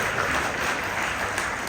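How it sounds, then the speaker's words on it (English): Brief, even applause from a seated crowd at a Digital Transformation Leaders' CxO Summit, steady and fairly full for its short length. "Ladies and gentlemen, please give a round of applause."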